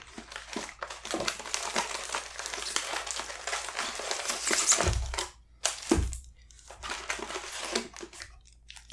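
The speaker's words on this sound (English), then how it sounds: "So let's get to cracking some packs" Magic: The Gathering War of the Spark booster packs are torn open and handled up close, with continuous crinkling and crumpling of foil wrappers, sharp tearing bursts and a couple of thumps, brief pauses between.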